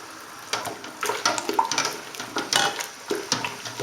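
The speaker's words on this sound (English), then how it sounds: "Let me stir this well." Brewing sugar being stirred into boiling wort during the last minutes of a home-brew SMASH boil, a series of close, irregular scraping and sloshing strokes in the pot with no talking.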